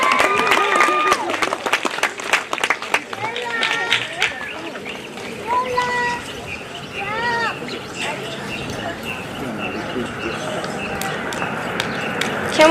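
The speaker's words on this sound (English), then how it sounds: "Can we give them one more round of applause?" Applause for elementary school award winners at an awards ceremony: steady clapping from a seated audience of families, with cheers and whoops over it and some crowd chatter.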